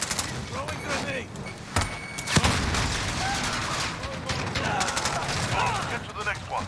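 A video game firefight with dense, overlapping gunfire and bursts of shots, plus a loud impact or blast, while voices talk over the chaotic battle noise.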